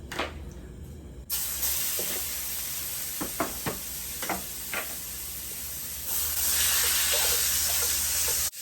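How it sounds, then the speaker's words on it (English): Breakfast sausage sizzles in a hot pan, a steady close hiss broken by a few sharp pops and crackles, growing louder and denser toward the end, with no voices. "We're going to go ahead and add some breakfast sausage"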